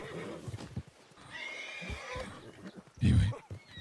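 A horse in the Red Dead Redemption video game gives a loud, close whinny near the end, with scattered hoof and movement sounds beforehand.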